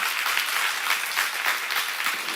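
A church congregation applauding during a sermon seminar, steady dense clapping from many people throughout, fairly loud and close.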